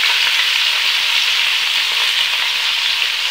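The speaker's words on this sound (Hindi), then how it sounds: "घी गर्म हो गया, अब इसमें हम प्याज डाल देते हैं" Onions frying in four spoons of hot ghee in a pan, giving a loud, steady, dense sizzle that continues without a break, with faint low clinks of a utensil underneath.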